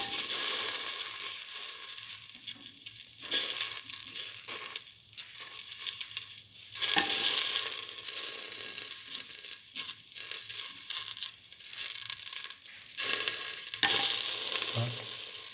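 Okra pieces frying in a pan give a steady, close sizzle with stirring and scraping scrapes throughout, a dense crackle that rises and dips in short bursts, no talk over it.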